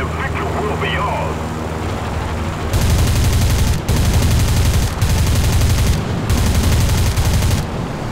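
Bursts of gunfire in the War Thunder combat game, four dense sustained volleys from about three seconds on, loud and close over a steady aircraft engine drone, with a voice talking underneath.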